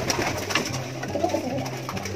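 A pigeon or dove coos in low, repeated soft calls close by, steady over faint background noise, with no voices.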